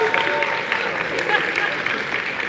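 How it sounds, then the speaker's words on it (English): A crowd applauds a founder after her business pitch at a live pitch event, with sustained clapping at moderate level and some voices mixed in beneath it. "Let's give her one more round of applause."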